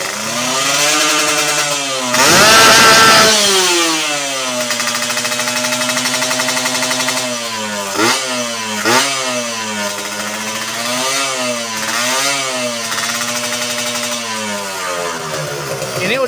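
A standard Kawasaki Ninja two-stroke fitted with a PWK 34 Air Strike carburetor on the stock manifold revs up loud and close, with a sharp throttle burst early on, then the engine holds a steady buzzing note broken by several quick blips.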